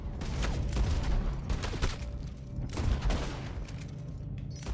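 Gunfire in the video game Red Dead Online, with a string of sharp shots and booming bursts spread unevenly through the stretch, some clustered close together, loud against a busy game background.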